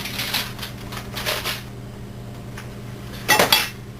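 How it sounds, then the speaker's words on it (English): Dried garlic mustard leaves crumbled by hand: a few bursts of crisp, papery crackling up close, with a sharper rustle near the end and quiet pauses between. "So first I'm going to just try crumbling it up"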